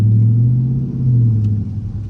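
A Dodge Charger R/T engine idles and revs with a deep, steady low rumble close by, swelling slightly midway through, while the car is driven through a rainstorm.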